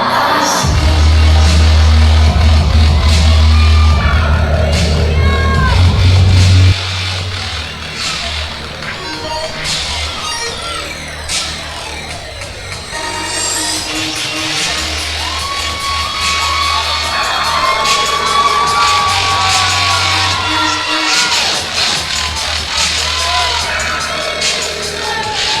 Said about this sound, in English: the crowd getting hyped, baby